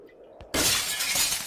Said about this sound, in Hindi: आरती खिड़की का कांच फोड़कर